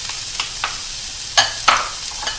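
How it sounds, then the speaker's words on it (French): Onions frying in a little oil in a pan for beef stroganoff, a steady sizzle with a few spatula scrapes and clacks, fairly loud and near, no voices. "je vais mettre donc mes oignons"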